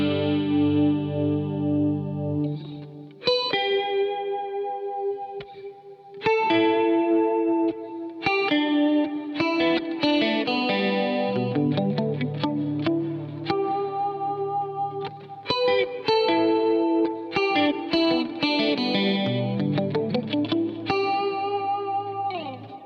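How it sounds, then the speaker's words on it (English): Electric guitar run through a Mobius pedal with tremolo and chorus effects, clean chords and single notes pulsing and shimmering in rhythmic bursts, separated by short gaps, played alone and fairly loud. "But primarily it's just that basic trem sound and then this chorus sound."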